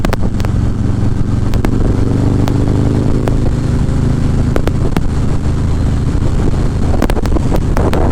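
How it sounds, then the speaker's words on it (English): A 2019 Harley-Davidson Fat Boy with a Reinhardt 2-into-1 exhaust rumbles steadily and loudly while riding, its deep V-twin drone partly buried in heavy wind buffeting, with a few sharp pops and ticks on top. "Sounds fantastic too with the Reinhardt 2-into-1."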